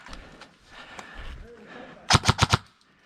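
Rapid burst of gunfire in a shooting video game, four or five loud close shots in quick succession at the end, following a stretch of quieter background game noise.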